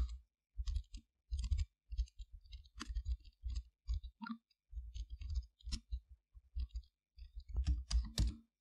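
Short bursts of computer keyboard typing while entering code for an Android game in Unity 3D, crisp clicks in quick uneven runs with brief pauses, close and fairly quiet.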